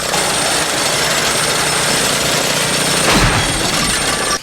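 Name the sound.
lawnmower engine running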